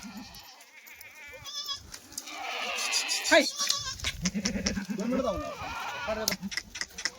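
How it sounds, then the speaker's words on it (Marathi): A goat bleats several times amid the busy noise of a crowd at a livestock sale, with people talking nearby throughout. "बघा मित्रांनो ती शेळी तशी गाडीत उतरली"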